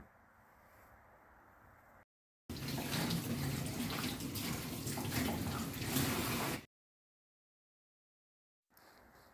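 Water runs from a tap for about four seconds while fish maw is rinsed and handled beneath it before slicing, framed by quieter, muffled room noise.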